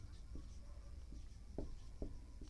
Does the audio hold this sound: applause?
no